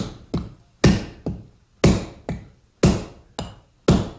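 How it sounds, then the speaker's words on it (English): A hammer drives a wooden wedge into the head end of an axe handle with about eight sharp, evenly spaced blows. The strikes are close and crisp, with no talking. "this is how you drive the wedge home"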